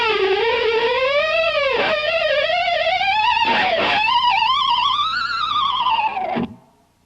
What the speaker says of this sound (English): a succession of 3 harmonics and using the tremolo bar in a way to bend down and up and wiggle at the same time